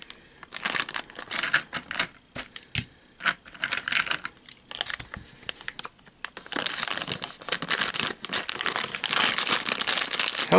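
A plastic bag holding a Hot Wheels Mystery Models car is cut and torn open close by, with crackling crinkles and snips at first, then a long continuous rustle of plastic.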